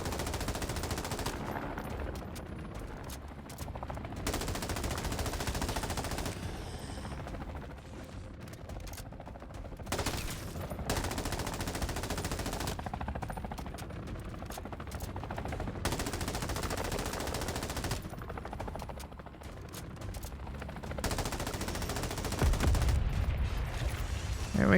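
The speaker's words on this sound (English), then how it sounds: "We're just going to keep putting bullets in him." Sustained automatic gunfire from a machine gun in the video game Modern Warfare Zombies, fired in long continuous bursts with short pauses between them, loud and dense across the whole stretch with no talking.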